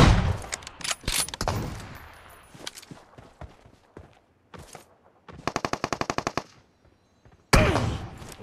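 Gunfire in a first-person shooter match near a garage, with sharp single shots and a fast machine-gun burst, then a loud closing volley, echoing against quiet gaps.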